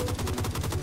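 An MG36 machine gun in a video game fires from the hip, a rapid, even burst of loud close-range shots with no pauses.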